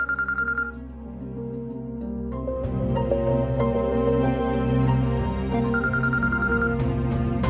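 A telephone rings in a domestic drama scene, its repeated electronic trill standing out at the start and again near the end, over a steady droning music bed with no talk.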